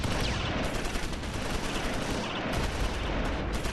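Dense battlefield gunfire from the World War II tactics game Close Combat IV forms a continuous crackle of small-arms shots and bursts at a steady, moderate level, with no talk over it.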